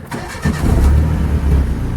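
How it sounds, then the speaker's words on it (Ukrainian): A car engine cranks and catches, settling into a steady low idle rumble, loud and close. "Включаем зажигання."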